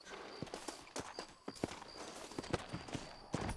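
Hooves of Cisco the horse clopping along in Red Dead Redemption, a steady walking rhythm of crisp, fairly quiet hoofbeats over a soft ambient bed, with no talk.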